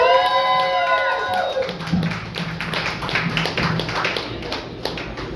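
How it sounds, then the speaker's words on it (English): A comedy show crowd welcomes a comedian. A brief musical tone fades out, then the audience breaks into clapping and scattered cheers at moderate loudness. "Start clapping right now for Christopher Anthony."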